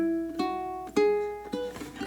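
Ukulele playing bar 6 of the opera aria Nessun Dorma, a few plucked notes and strummed chords with clear sustained tones, struck about every half second at a slow, steady pace, close and solo.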